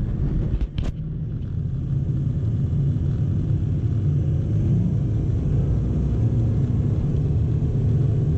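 A 2004 Ford F250 pickup with a 6.0 liter turbo diesel engine rumbles loudly and continuously under a hard pull, a deep steady drone after a brief knock at the start.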